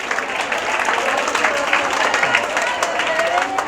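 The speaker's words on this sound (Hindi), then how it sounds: "इसके लिए तालियां बजाओ।" Audience at a school talk in India claps steadily for a student, a dense, loud wash of hands under a murmur of voices throughout.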